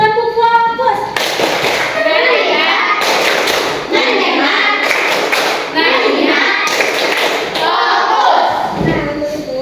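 A classroom of children performs the tepuk fokus clapping routine, bursts of rhythmic group claps and thumps alternating with chanted voices, loud and close.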